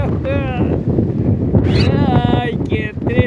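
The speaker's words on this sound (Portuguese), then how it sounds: "O vento vai te derrubar, Rufo!" Strong northeast wind buffeting the microphone on a beach at Laguna, a constant loud roaring rush under a man and others calling out.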